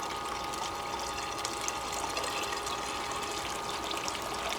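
Increased drop water pours and trickles continuously through the trap of a GOLDROP 5-gallon bucket system, making a loud, even wash close by with no talking.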